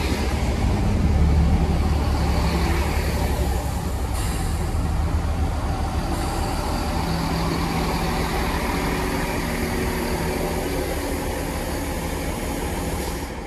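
Class 166 diesel train 166205 arriving at Portway Park & Ride station in Bristol, a steady low engine rumble and rail noise holding fairly loud and constant throughout, with no talk.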